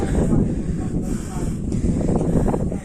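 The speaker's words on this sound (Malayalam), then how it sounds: "നല്ല കാറ്റുണ്ട്" Strong wind buffets the microphone in a constant low roar, gusting in waves over the short stretch.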